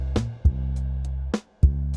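Addictive Drums virtual kit mixed with overhead and room mics: four sharp, punchy drum hits at an uneven pace over a sustained low bass tone, moderately loud and with no talking.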